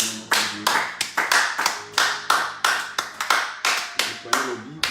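A church congregation at a prayer meeting claps in a steady, rhythmic beat, about three claps per second, loud and close, with faint voices underneath.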